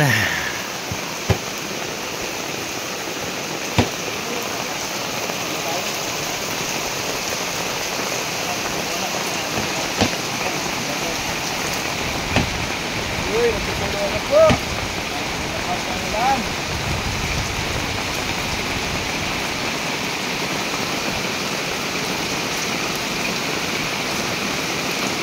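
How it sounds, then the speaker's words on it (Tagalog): Heavy rain pours down steadily on a house during a birthday gathering, a dense continuous wash of noise throughout, with people talking now and then over it and a few sharp knocks. "Umulan na naman."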